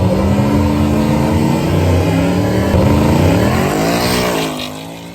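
Heavy Ford Mustang with independent rear suspension launching hard, a loud engine roar rising steadily in pitch through the revs before easing off near the end, with no talking.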